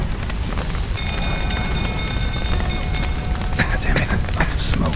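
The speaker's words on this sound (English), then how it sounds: "Looks like rain." Steady rain hisses in The Witcher 3 game, a dense broadband wash of falling water that holds at an even level throughout, with a thin tonal layer and crackling bursts toward the end.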